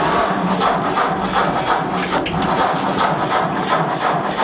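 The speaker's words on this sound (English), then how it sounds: "But first, we have to see if our tractor starts." A loud engine cranks and sputters with a rough, pulsing rattle that runs continuously, close by and with no talking.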